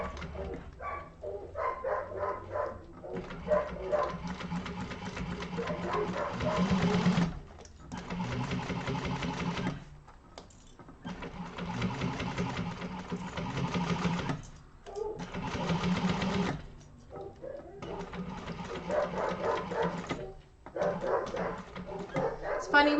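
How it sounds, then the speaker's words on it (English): Dogs bark and whimper in a home during a sewing class for an organizer bag, heard amid the whirring bursts of a sewing machine with a person talking over the noise. "sorry about the dogs again"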